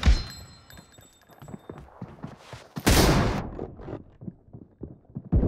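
Scattered gunshots and thuds crack through a BGMI PUBG firefight, with one loud, sustained burst in the middle and more sharp shots near the end.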